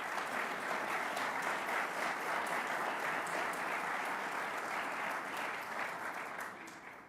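Audience at a New York governor's press conference on crime on Long Island applauds assembly members and state senators as they stand, a steady, even wash of clapping that stays fairly soft and tapers off at the end.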